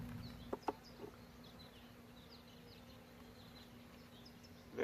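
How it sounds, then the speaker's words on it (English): Honeybees hum at an open hive, a soft steady drone with faint buzzing passes, a few small knocks early on and a louder rustle at the end. "Very mellow bees,"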